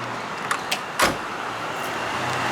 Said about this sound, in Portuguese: Deixa eu fechar a porta dela aqui.